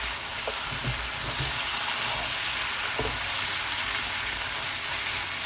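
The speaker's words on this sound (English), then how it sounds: "I'll add in my potatoes, because you want your potatoes to fry off nicely" Potatoes sizzle steadily in a hot pot of spiced lamb curry, a constant crackling fry with a few soft stirring knocks.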